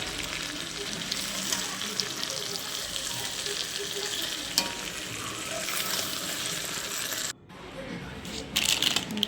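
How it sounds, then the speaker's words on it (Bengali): Chicken fries with whole garlic cloves in a pan for a red chicken curry, a steady dense sizzle with light stirring clatter that cuts out briefly and returns with a few clinks near the end. "গোটা রসুন অ্যাড করে বেশ সুন্দর করে কষিয়ে নিচ্ছি"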